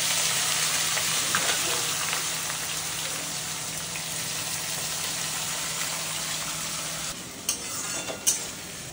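Hot oil sizzles and fries in a pan for Bengali mutton kosha with onions, a steady close crackling hiss throughout, with a couple of brief clinks near the end.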